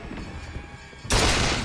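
Burst of gunfire from the Bioshock Infinite video game, a loud broadband blast erupting near the end after a stretch of quieter game ambience, sustained and dense like a volley.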